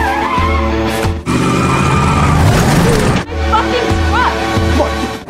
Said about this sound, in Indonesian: Dalton diserang oleh Dale menggunakan mobil pickup untuk membalaskan dendamnya